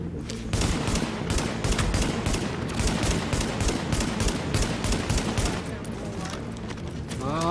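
Rapid gunfire in the video game Tom Clancy's The Division: a long run of fast, evenly spaced shots, loud and close, continuing almost without break across the whole stretch.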